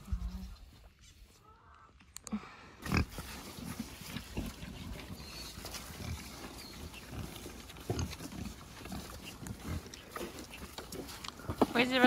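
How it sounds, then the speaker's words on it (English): Low grunts and snuffling come from nearby pigs amid rustling and shuffling, a steady, rough animal murmur with occasional louder snorts. "Look at that pig."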